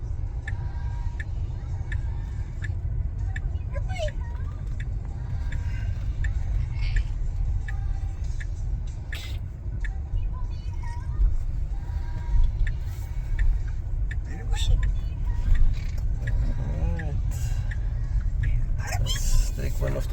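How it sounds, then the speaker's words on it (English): Road traffic rumbles steadily close by at a Buc-ee's Tesla supercharger, heard from inside a Tesla Model X Plaid, with soft ticking and occasional vehicle sounds mixed in. "There's some traffic here at this Buc-ee's."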